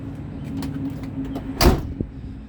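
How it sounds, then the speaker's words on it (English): A single 1976 Ford F150 pickup door slams shut with a solid, weighty thud, close by over a low idling rumble. "That's the way a door is supposed to sound when it shuts."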